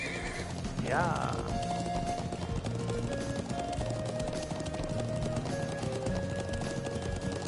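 Horse hooves clip-clop in the Trails of Cold Steel video game, a steady rhythmic patter under background music with a brief whinny near the start and a voice speaking over it.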